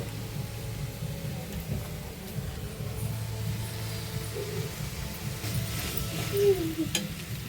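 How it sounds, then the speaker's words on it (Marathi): Chopped onion frying in a pan until reddish, a steady close sizzle with occasional stirring scrapes throughout, no talking. "कांदा भाजून घ्यायचा आहे लालसर होईपर्यंत"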